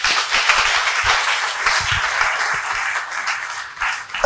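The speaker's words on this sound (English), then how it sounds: "Can you clap for Jesus?" A church congregation claps together during a sermon, a dense, steady wash of hands that stays loud and close for several seconds with a few sharper individual claps standing out.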